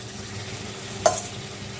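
Soya chunks dropped into hot oil in a pan for a creamy soya dish, stirred with a soft steady sizzle and one sharp metallic clink of the spatula partway through, close and clear with no talking.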